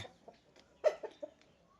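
A few soft clucks from a chicken, close but faint, spaced irregularly against near silence.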